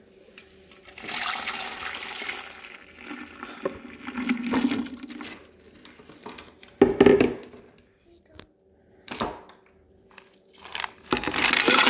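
Chia seeds, ice and water go into a pitcher of agua fresca: clinks and rattles, bursts of pouring and splashing water in uneven spurts, with a voice briefly in the background.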